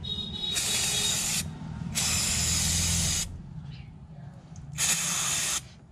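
Throttle cleaner is sprayed onto a car's sensor during turbo engine work. Three close, loud hissing bursts, each about a second long, are separated by brief gaps of low background noise.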